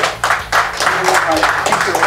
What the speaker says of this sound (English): round of applause right now